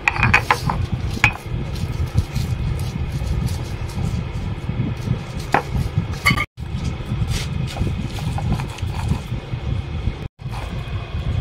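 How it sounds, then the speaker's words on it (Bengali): Electric mixer-grinder blending a spice paste of cashews, melon seeds, green chili and poppy seeds, a loud continuous whirring mechanical grind with rattling, briefly cutting out twice. "এখন আমি এই মশলাগুলো সব বেটে নেব, আর তার সাথে বেটে নেব কাঁচা লঙ্কা আর পোস্ত"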